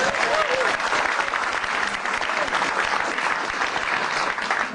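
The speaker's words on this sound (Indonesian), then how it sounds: "Boleh tepuk tangan dulu." Loud, continuous applause from the audience of an Indonesian stand-up comedy show, dense and close, with a faint voice briefly audible near the start.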